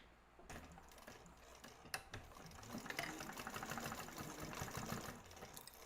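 A sewing machine stitches up a Taymor crossbody bag, starting after a brief pause into a steady, fast rattling run with a couple of sharp knocks, heard close but at low level.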